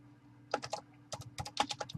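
Bursts of typing on a computer keyboard, two quick clusters of crisp key clicks separated by a short pause, close and clear against a quiet room hum.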